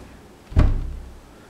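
A cabinet door fitted with self-stick bumpers swings shut with one soft, muffled thud and a short dull resonance, near and alone in a quiet room.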